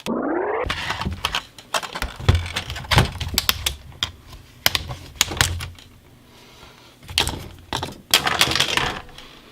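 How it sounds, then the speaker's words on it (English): Laptop disassembly: a small screwdriver backing screws out of a laptop's plastic bottom casing, with close, irregular clicks, scrapes and light rattles in bursts and short pauses between them. "Two screws here. Let me get these out and see if we get any further."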